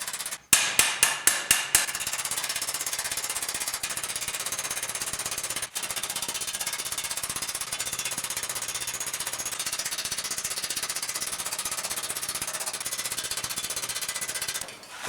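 Rapid, continuous power-hammer pounding on a steel elbow armor piece being straightened, a dense loud metallic rattle running without pause after a few separate opening blows, with no talking.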